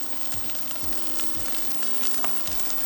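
Garlic and onions frying in a pan give a steady, dense sizzle with faint crackles throughout, plus a few soft low knocks from stirring, no voices.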